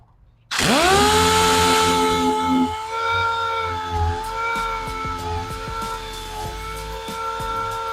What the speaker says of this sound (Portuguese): vou usar o 80 aqui para poder desbastar essa área aqui, que é onde vai levar a massa